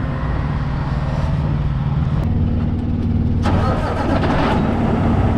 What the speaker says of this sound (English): so I'm gonna go start the truck right quick.